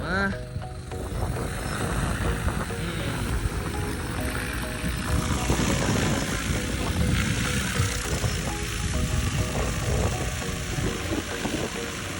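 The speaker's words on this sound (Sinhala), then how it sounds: "ඩ්‍රෝන් එක ටේක් ඔෆ් කරනවා." An agricultural drone lifts off over a paddy field, its propellers whirring in a steady, fairly loud drone with motor noise for the whole stretch.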